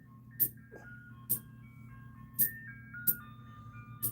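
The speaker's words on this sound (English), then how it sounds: "There's the ice cream truck." An ice cream truck plays a Christmas tune, a thin, distant melody of held notes drifting along with a few sharp clanks recurring about once a second.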